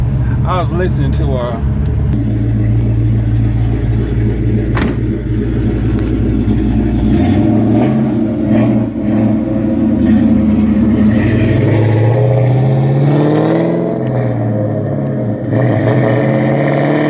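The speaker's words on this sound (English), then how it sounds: "boy, the Mustangs sound good." A Ford Mustang with aftermarket mufflers and an X-pipe or H-pipe exhaust rumbles and revs loudly nearby, its deep engine note rising and shifting over a long stretch while someone talks over it.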